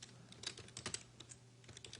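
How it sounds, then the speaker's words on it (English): Quick, close keystrokes on a computer keyboard, a run of irregular clicks and taps in an otherwise quiet room. "let's just type into our announcement text"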